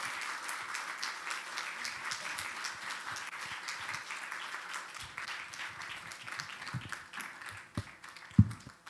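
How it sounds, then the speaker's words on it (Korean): A church congregation claps in welcome as a missionary from a Thai theological seminary comes forward, a soft, steady roomful of applause that thins toward the end, with a few louder isolated claps. "우리 윤영대 선교사님 나오실 때 큰 박수로 환영해 주시고"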